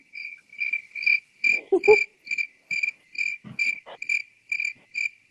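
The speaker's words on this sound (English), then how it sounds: "I need my cricket noise" Cricket chirping sound effect played during a late-night style talk show, a steady rhythmic series of bright, evenly spaced chirps, fairly close and clear, with brief low vocal sounds mixed in partway through.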